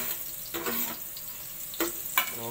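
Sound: garlic sizzling in a pan for salmon head sinigang

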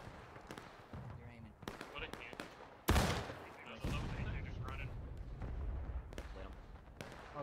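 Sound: musket gunfire in the video game War of Rights

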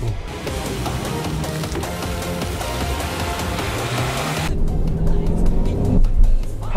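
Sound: cheap Chinese car engine driving roughly

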